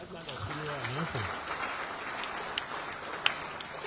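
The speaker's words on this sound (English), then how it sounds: "I want you to give me an applause." Applause from an audience at an official launch event, a steady broadband patter of many hands that holds from start to finish, with a voice speaking over it near the start.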